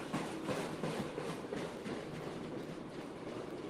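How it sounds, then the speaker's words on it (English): A long freight train of autorack cars passes trackside in Ohio, a close, steady rumbling roar with rhythmic clattering wheel beats throughout, loud and continuous without speech. "this one seems to be all racked, so... yeah, it's a long train."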